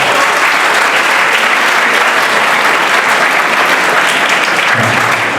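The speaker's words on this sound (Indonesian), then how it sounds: "untuk kelas saya bisa diberi tepuk tangan dulu" A class of students applauds at an afternoon talk session with a deputy minister, a loud, dense and unbroken roar of clapping that holds evenly for several seconds.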